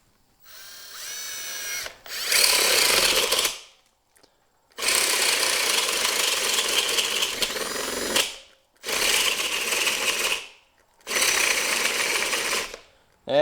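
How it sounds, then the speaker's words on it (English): A Milwaukee cordless drill in drill mode at speed 2 bores with a 1.5 inch bit, running in four loud whining bursts of a few seconds each, broken by short silences where it stops. "we'll start off with the Milwaukee here in drill mode"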